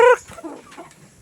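Chickens cluck inside a chicken house, one loud call at the start followed by softer, scattered clucks close by.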